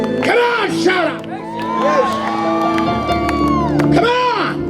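A church congregation shouts, whoops and cheers loudly in praise, a dense crowd roar with individual yells rising and falling throughout.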